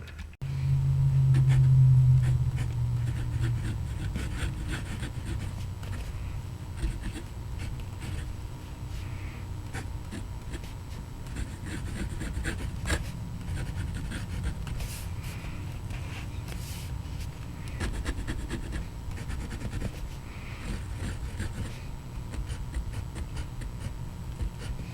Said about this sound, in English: putting this nib to paper